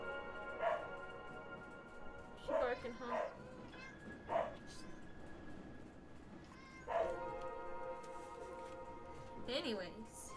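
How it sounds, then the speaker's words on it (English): A dog barks and yips in several separate bursts indoors, near and fairly loud, with whimpering between, while people talk. "She barking, huh?"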